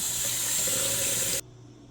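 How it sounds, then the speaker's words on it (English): Soapy warm water drains from a kitchen sink with a loud, steady gurgling rush that cuts off abruptly, leaving a faint low hum. "we will let out our soapy warm water so we can use this side of the sink"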